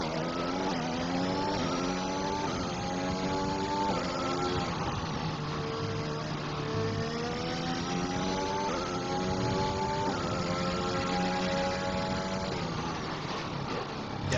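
Onboard race car engine from a racing video game round in Canada, revving up and down through gear changes with a continuous loud whine, close and steady, no talking.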